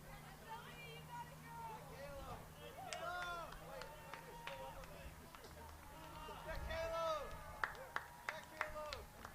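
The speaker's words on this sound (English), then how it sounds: "They clap in freshman Ellie Rosland of Gill St. Bernard's." Spectators at an indoor high school track meet clap in a freshman runner finishing the 3,200 meters. The claps are scattered and sharp and grow toward the end, over a steady hum of crowd chatter and voices.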